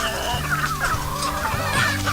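Chickens on a poultry farm cluck and call in a busy overlapping chorus, moderately loud and near, with no talk.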